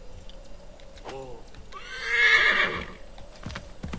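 Horse in the Assassin's Creed III video game: a whinny with falling harmonics near the start, then a loud, broad neigh building to a peak, with hoof clatter over rough terrain and a voice talking over parts of it.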